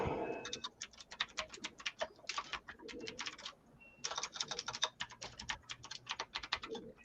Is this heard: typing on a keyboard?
yes